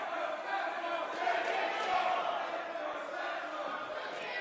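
Wrestling crowd at a CZW Best of the Best show, split between Tessa Blanchard and David Starr, roaring in a loud, continuous mass of shouts and cheers that swells and holds for several seconds.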